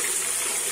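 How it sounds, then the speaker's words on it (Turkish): Water gushing from a tap into a toy bathtub, a steady, fairly loud and close rush of running water with no voices over it. "Ama Meryem, suyumuzu çok fazla açmıyoruz lütfen."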